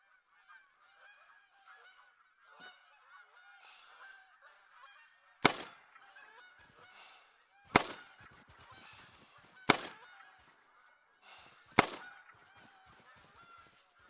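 Geese honking in a hunting game set in Hirschfelden, a steady chatter of overlapping calls broken by four loud, sharp gunshots spaced a couple of seconds apart, with honks continuing between shots and no voices.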